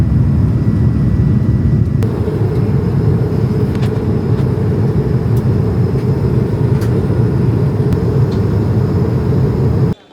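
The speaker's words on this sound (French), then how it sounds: "avec Cam, on attend que ça décolle" Steady loud rumble inside an airplane cabin waiting on the ground for takeoff before a flight to Seville, a constant low engine and ventilation drone with faint clicks and no talking.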